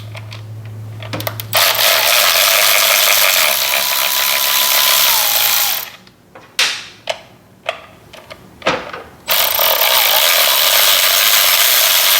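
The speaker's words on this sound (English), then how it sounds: "I'm just going to let everything kind of sit there while I get the tensioner off" Mechanical work on a Harley-Davidson Twin Cam 110 clutch, pulling off the clutch tensioner: steady whirring noise broken by a run of sharp metallic clicks and clunks, with no talking.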